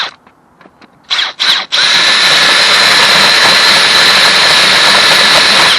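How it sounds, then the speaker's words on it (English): A hand-held drill runs a hole saw at slow speed, starting with a few short bursts before settling into a loud, steady whine and grind that continues alone until the end. "I'm just going to run this hole saw."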